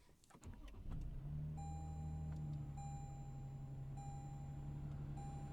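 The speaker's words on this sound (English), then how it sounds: "that was a cold start, briefly it had a more throaty rumble" Cold start of a Toyota Tundra TRD Rally's twin-turbo V6: a brief crank and catch, then a steady rumbling idle that settles, heard from inside the cab with a faint electronic chime repeating over it.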